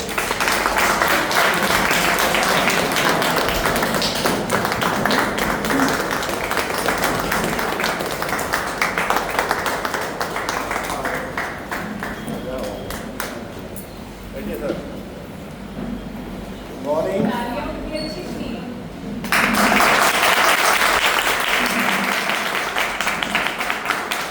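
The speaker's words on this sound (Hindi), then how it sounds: "एक जोरदार तालियां हमारे सर के लिए।" Audience applause at a gathering in Haridwar, loud sustained clapping from a crowd that dies down midway while a voice speaks, then swells again into strong clapping at the end.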